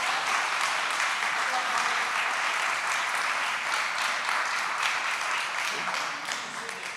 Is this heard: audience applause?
yes